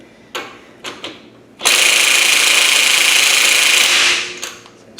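A Dewalt DCF899 20V high-torque impact wrench runs in reverse on setting 2, a few sharp knocks first, then a loud, continuous hammering rattle lasting over two seconds before stopping abruptly.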